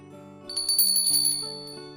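A hand bell rings with bright, sustained metallic tones, close and clear, swelling in the middle and then fading over about two seconds, with a soft melodic background beneath.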